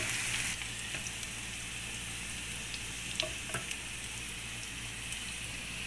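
Rice with chicken frying and being stirred in a pan until brown: a steady close sizzle with occasional scraping clicks from the stirring, moderately quiet, with no talk.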